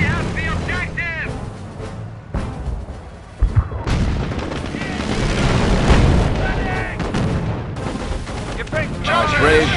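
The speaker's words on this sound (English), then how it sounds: "Enemy tank firing!" In a World War II video game, an enemy tank's cannon fires amid the heavy rumble of battle: deep booms and blasts layered over continuous low roar, with voices mixed in.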